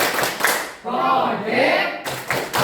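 A group claps out the Tepuk P5 chant rhythm for Indonesia's Pancasila student profile project, sharp hand claps bracketing a stretch of sung chanting voices.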